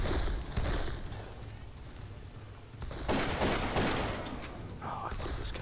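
Combat shotgun fire in the first-person shooter Darkest of Days, with several loud blasts and bursts of surrounding battlefield gunfire spread across the clip over a rumbling background.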